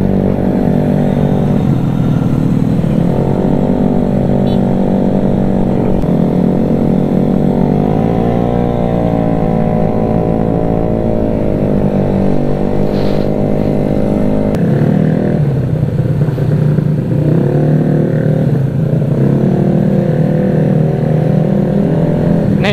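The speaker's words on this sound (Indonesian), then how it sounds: "kalian bisa dengar sendiri kan suara idle tuh" A motorcycle engine idles close by, just back from a workshop and heard in a narrow alley: a loud, steady, continuous rumble with a slight wavering in pitch and no speech over it.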